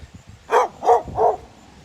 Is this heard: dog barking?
yes